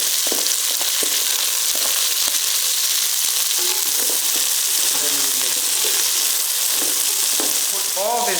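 Onion and carrots frying in margarine make a loud, continuous sizzle with occasional stirring clatter, and a voice comes in briefly near the end.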